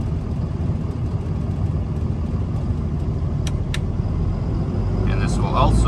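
A 2023 Renegade Valencia 38RW motorhome engine running in high idle mode, a steady close low rumble throughout, with a brief click and faint voice near the end.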